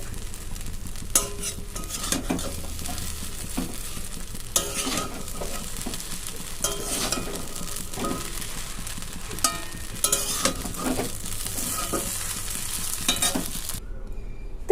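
Vegetarian chow mein made without egg is stirred and tossed in a hot pan. A utensil scrapes and clanks against the metal over a steady, soft sizzle of frying, with occasional louder knocks throughout.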